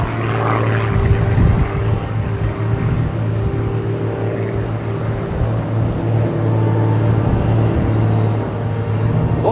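Propeller aerobatic airplane of the Iron Eagle team droning steadily and loudly overhead during an air show routine, a sustained engine roar with slight pitch wavering throughout.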